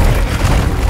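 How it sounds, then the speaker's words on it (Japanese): An exploding rock trap spell in the game Forspoken, a single loud deep boom rumbling throughout the short moment, close and heavy with no voices. "地に潜む岩盤は爆発する罠を設置し"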